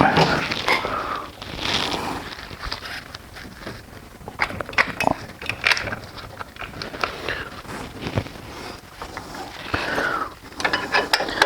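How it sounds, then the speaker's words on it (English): A brake part is pried off a Mercedes C300 4matic during a brake and rotor job, with close metallic clicks, ratcheting scrapes and knocks in irregular bursts, without talk. "I'm going to go ahead and just pry that off real quick"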